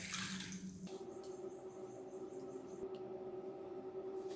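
Water is poured into a bowl of soaking tamarind at home, a short faint splash and trickle at the start followed by a low steady hum.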